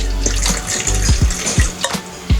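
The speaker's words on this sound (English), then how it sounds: "I'm gonna be putting distilled water or any clean water so that it is not thoroughly fog juice." Distilled water splashes and gurgles loudly as it is poured into the tank of a JOJEN thick fogger machine, with a continuous close stream broken by a few sharp glugs.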